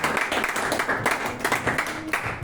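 A church congregation breaks into brief, loud clapping during a Sunday service, the claps dense and overlapping with a voice mixed in.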